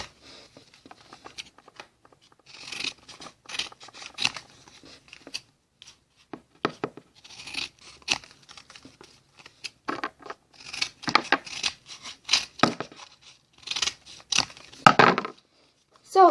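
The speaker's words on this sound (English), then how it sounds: "all we have to do is just trim the edges" Scissors snip and trim the edges of paper in a steady run of short, crisp cuts, close and fairly quiet, broken by brief pauses and with no voices.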